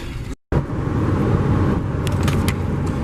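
A truck with a Triton engine runs at a steady, fairly loud drone, broken by a brief dropout to silence near the start before the engine sound resumes.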